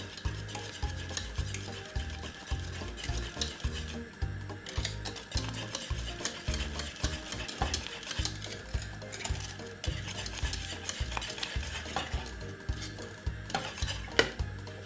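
Spoon stirring cornmeal porridge in a pot, a steady rhythmic scraping and clinking that repeats throughout at close range, with a soft sizzling bubble underneath and no talking.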